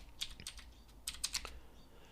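Computer keyboard keys tapped in two short bursts of several clicks each, close and fairly quiet, with a brief pause between the bursts.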